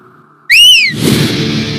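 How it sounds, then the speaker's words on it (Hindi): A hand whistle is blown once, a loud, shrill blast that bends up and back down for under half a second, followed by a noisy indoor bustle. "सीटी क्यों बजा रहा है बे?"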